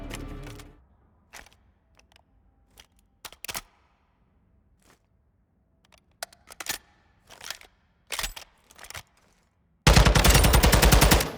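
Custom weapon build firing in Modern Warfare II, a sudden loud, rapid automatic burst at the end after scattered clicks and quiet menu taps.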